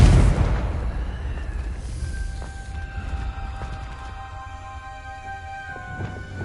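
A Confringo blasting spell in Hogwarts Legacy erupts in a loud, booming explosion that hits at once and decays into a rumbling tail with faint ringing tones lingering afterward.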